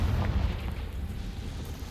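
The Confringo explosion spell in Hogwarts Legacy gives a low, rumbling burst that sustains fairly quietly with a soft crackling tail, with no voices.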